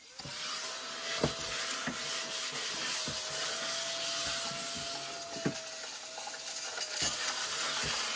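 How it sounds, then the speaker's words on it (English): A small battery-powered handheld vacuum runs steadily, close by, for several seconds, its thin whine mixed with light clicks and rattles of debris while tidying a grapevine wreath workspace. "He's a little vacuum. He just runs on batteries."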